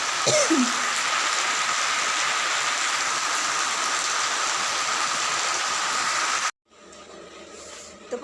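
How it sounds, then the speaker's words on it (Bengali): Heavy, steady rain pours down in a continuous roar, then cuts off abruptly near the end, leaving a much quieter background. "আর প্রচণ্ড বৃষ্টি হচ্ছে"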